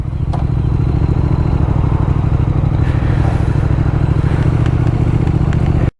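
A Triumph Thruxton motorcycle rumbles steadily while being ridden, its engine loud and close with a constant throb and light clatter throughout, no voices.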